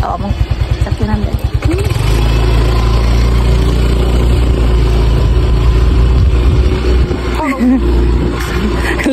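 A motorcycle engine runs steadily at close range, with a pulsing idle at first, then a continuous drone as it pulls away, while people talk over it.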